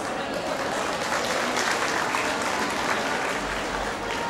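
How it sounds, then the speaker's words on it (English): An audience applauds steadily for a few seconds, a dense wash of many hands clapping at once, with faint crowd murmur underneath. "Let us give them an advance congratulatory applause."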